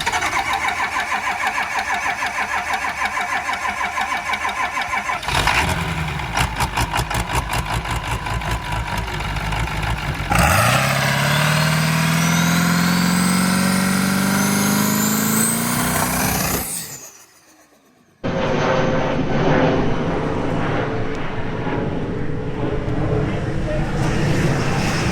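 A modified 7.3 Powerstroke diesel truck engine cranks and fires up, then revs hard several times with a deep growl, cuts out briefly, and settles into a rough idle.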